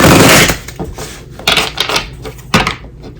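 Tarot cards are shuffled in quick riffling bursts, a loud opening flurry followed by a few shorter papery shuffles, close and with no talking.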